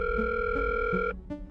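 A telephone dial tone while calling a garbage station: a steady, loud, unbroken electronic hum that cuts off after about a second, followed by brief faint clicks.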